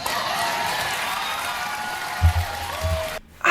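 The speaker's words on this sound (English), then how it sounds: "But why are we clapping when he was by her side when she was cheating all those times?" Studio audience on the Maury Show applauding steadily as a continuous broad wash of clapping, with a few low thumps near the end before it cuts off abruptly.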